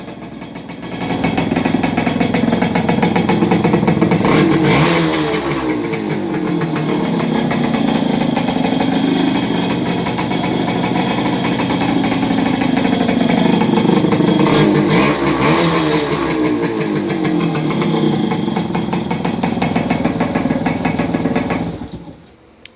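A 1966 Yamaha YA6 motorcycle pulled from a barn runs steadily close by, a buzzing small two-stroke engine idling with a couple of brief revs before cutting out at the end.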